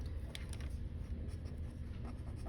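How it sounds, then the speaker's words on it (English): Pen scratching steadily across paper while notes are written out, a close, continuous soft scraping with a few brighter strokes. "so let's write this down"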